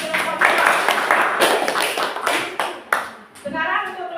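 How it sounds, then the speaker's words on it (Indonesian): Children clapping together in an inclusive classroom: a burst of several quick, close claps, with voices of children and a teacher mixed in over the clapping. "Iya, tepuk tangan."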